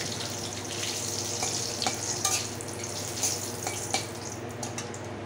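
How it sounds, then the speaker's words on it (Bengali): Bay leaves and dried red chillies sizzle in hot oil in a pan for egg biryani, giving a loud, dense, continuous crackle with a few small spits and pops and no voices over it. "তেলটা গরম হয়ে গেছে, তেজপাতা, শুকনো লঙ্কা দিয়ে দিই।"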